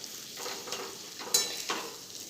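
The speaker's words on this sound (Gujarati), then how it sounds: "મિક્સ કરી લઈશું" Corn kernels with salt and turmeric stirred in a pan, giving soft scraping swishes with a light sizzle, several strokes close up with no talking.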